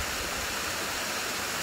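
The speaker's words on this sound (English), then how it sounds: "There's a lovely waterfall." A waterfall beside a road into a subdivision pours in a steady, broadband rushing roar, close and unbroken, with no voices.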